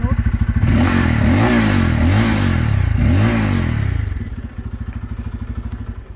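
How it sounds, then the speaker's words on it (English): A Bajaj Pulsar 250 motorcycle engine revs up in several loud, rhythmic exhaust surges close by, then settles back into a steady, throbbing idle. "since we started the motorcycle, let's have a look at the exhaust note"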